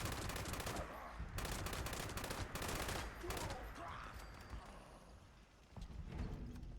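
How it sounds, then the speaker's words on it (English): Rapid machine gun fire in a video game rattles in long, dense bursts, loud and close, with a short pause partway before the shooting resumes. "A friendly machine gun."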